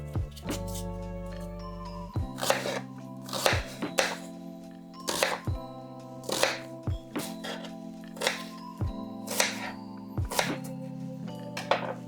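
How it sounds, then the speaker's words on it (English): A knife chops through an apple on a board, giving a steady run of about eight crisp, evenly spaced cuts close by, over a sustained musical background with no talking. "You have to chop an apple."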